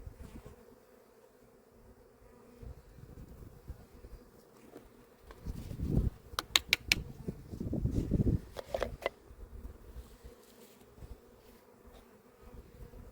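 Honeybees buzzing during an early-year beehive inspection, a steady low hum that swells louder in the middle as the hive is worked, with a few sharp clicks, then settling back to a quieter drone.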